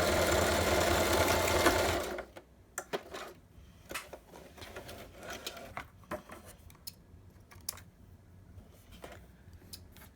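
A sewing machine stitches lines through a tri-fold folio journal, with a brief, loud, continuous run of rapid stitching followed by faint clicks and light handling noises.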